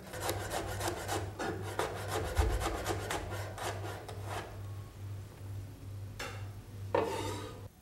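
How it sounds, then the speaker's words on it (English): A knife finely slicing a garlic clove on a cutting board, quick rhythmic tapping chops close up that pause and then resume with a couple of final cuts, without any speech. "Now we add a clove of garlic sliced finely."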